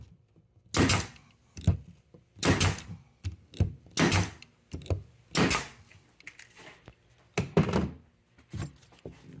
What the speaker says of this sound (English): Got the brad nailer ready to go. I'm just going to shoot a few nails into this block of wood